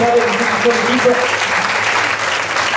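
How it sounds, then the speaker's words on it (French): A crowd at an awards evening applauds steadily throughout, a dense wash of clapping with a voice briefly audible at the start. "Donc on peut déjà applaudir nos amis du Lavedan avec l'équipe."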